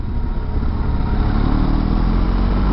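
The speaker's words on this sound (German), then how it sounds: "der Motor, muss man schon sagen, auch niedrigen Drehzahlen läuft echt noch richtig geschmeidig, nicht mehr so ruppig" A BMW R1250GS two-cylinder boxer motorcycle engine runs smoothly at low revs, a loud, steady low rumble with wind noise over it and no voices.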